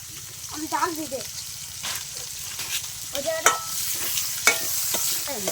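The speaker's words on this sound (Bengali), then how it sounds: "তেল দেওয়া হচ্ছে এখন এবার মাংস দেওয়া হবে পেঁয়াজটা দাও" Oil, onion and meat fry in a pot at an outdoor village picnic cooking spot in a banana grove, with steady sizzling and repeated stirring scrapes while people talk nearby.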